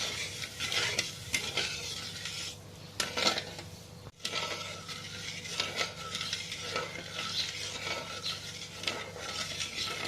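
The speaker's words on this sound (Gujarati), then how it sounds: "હવે આપણે 10 મિનિટ સુધી આપણે ખાંડ ઓગળે ત્યાં સુધી હલાવવાનું છે." Sugar syrup for a peanut sweet stirred in a pan over low heat, with continuous scraping and rubbing of a spoon against metal and a faint sizzle, steady and close, without speech.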